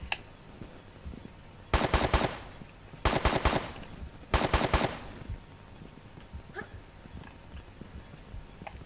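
Gunfire in the video game Tomb Raider 3, three loud rapid bursts of shots about a second apart, then quieter scattered sounds, no talk.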